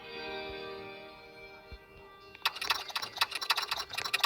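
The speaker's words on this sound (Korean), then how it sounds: "소리 제일 좋았던 꿀키보드" Rapid clattering keystrokes on a mechanical computer keyboard, praised for its sound, burst in loudly at a keyboard-tower event after a steady tonal hum, continuing as a dense run of clicks.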